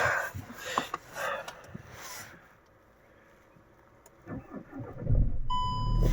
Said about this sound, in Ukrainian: Холодно, зараз заведу.